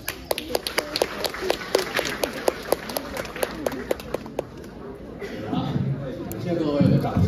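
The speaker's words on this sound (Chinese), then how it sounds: "感谢各位的掌声鼓励" A live crosstalk audience at a Beijing teahouse theatre claps in a quick rhythmic burst of sharp, distinct hand claps, then the clapping fades into low crowd murmur and rustle.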